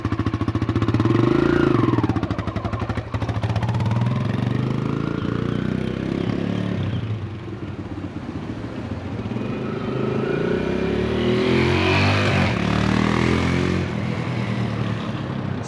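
Kawasaki KLX 140G dirt bike engine running close by, a steady idle with a brief rev near the start and rising revs toward the end, alone without talk.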